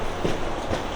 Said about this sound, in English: now we're about to take another train to get to the airport